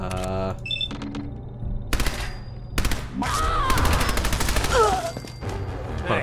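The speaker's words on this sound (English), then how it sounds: "Quite a powerful machine gun." A powerful machine gun fires in Fallout 4: several rapid bursts of automatic fire, loud and close, with gaps between them, mixed with in-game clatter and a few voice-like sounds.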